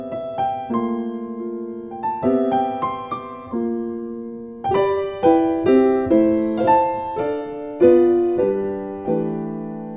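Jazz piano played solo, a flowing run of chords with grace-note roots added on only a few of them, bright struck attacks and sustained harmonies over about ten seconds, close and clear with no talking.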